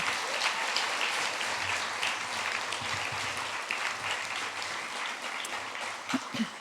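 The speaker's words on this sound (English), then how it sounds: "Let's give a round of applause to the 7th grade" Audience applause at a middle school closing ceremony, honoring the 7th grade class: sustained, even clapping from a large crowd throughout, with a few louder claps standing out near the end.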